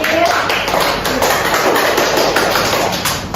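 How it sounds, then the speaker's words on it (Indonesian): Classroom of seventh-grade students clapping hands together in a quick, brisk burst, close and fairly loud, with a voice briefly audible. "Kasih tepuk tangan untuk Ais."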